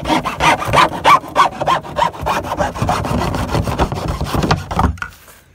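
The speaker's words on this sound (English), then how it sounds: "Using a good, strong, sharp hacksaw, we're just going to cut this nipple off." A strong, sharp hacksaw cuts the nipple off an upturned plastic sump basin for a French drain, a loud, steady run of rhythmic rasping strokes close by that stops abruptly near the end.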